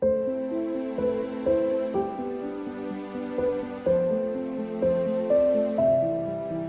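A short cinematic piece where a string ensemble replaces the piano background: sustained bowed chords shifting every second or so under a stepwise melody, even and flat in loudness with no talking.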